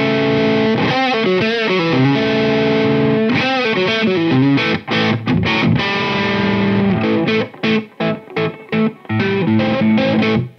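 An Epiphone Dave Mustaine Prophecy electric guitar on single-coil pickups plays distorted riffs, first sustained chords and then choppy staccato stabs with short gaps between them. It is loud and close, with no talking.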